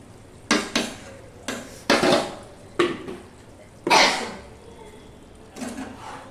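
Bottle gourd curry with yogurt and ghee is stirred in a pan, giving repeated scraping, clattering strokes of a spoon against the metal in an uneven rhythm over a low sizzle, close by.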